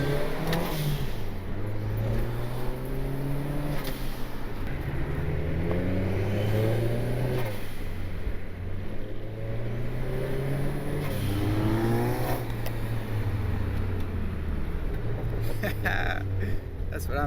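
A turbocharged Honda Civic pulls hard at wide open throttle. The engine note climbs steeply through several gears, with repeated rising sweeps broken by brief dips at each shift, loud and continuous throughout.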